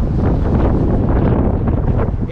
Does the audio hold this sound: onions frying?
no